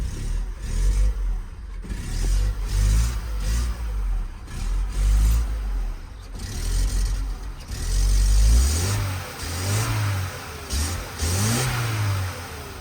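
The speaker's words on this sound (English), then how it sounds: "Okay, it's revving." An Opel Corsa project car engine revs repeatedly, rising and falling in loud surges before settling, with no one speaking.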